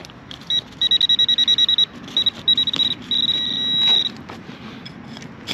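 Electronic beeping from a metal detector over a possible penny, a rapid series of short high tones followed by longer steady tones, loud and close over faint outdoor hiss.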